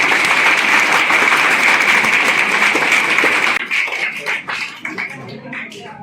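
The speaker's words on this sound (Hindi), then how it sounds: "जोरदार तालियां हो जाएंगी" Loud, sustained applause from a school seminar audience, dense clapping that thins out toward the end into scattered claps.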